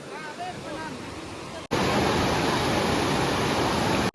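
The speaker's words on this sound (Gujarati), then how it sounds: "જો તમે પાણીનો ધોધ કેટલો તીવ્ર છે." A powerful waterfall of dam water at Tulsishyam in Gir roars as a loud, dense, continuous rush that cuts in sharply after a quieter stretch, where a faint voice is briefly heard.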